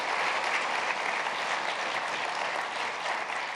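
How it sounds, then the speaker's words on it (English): Sustained applause from a large audience at the College Opportunity Summit, a steady dense wash of clapping throughout with no voices above it. "Let's give them a round of applause as well."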